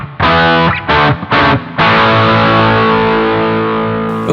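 Electric guitar through a Boss GT1000 with reduced midrange EQ: a few loud distorted chord stabs, then one long ringing chord left to sustain and slowly fade, with no talking.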